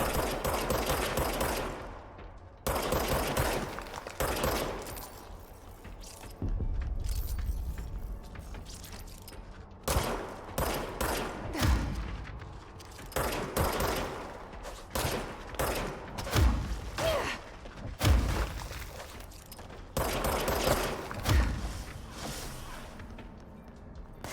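Service weapon gunfire in the video game Control: repeated bursts and volleys of shots in clusters, loud and near, broken by short pauses and some heavy thuds, with no talking.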